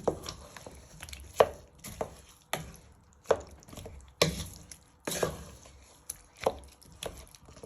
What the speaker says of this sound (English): now with your wooden spoon you just want to stir that in